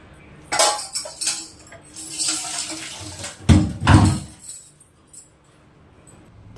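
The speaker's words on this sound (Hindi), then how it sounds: "मैं लग गई हूँ अपने काम में, क्योंकि बर्तन धुलने होते हैं।" Dishes, pots and utensils being washed in a home kitchen: scattered clinks of metal and glass, water splashing, and a couple of louder clattering handling bursts, close and intermittent.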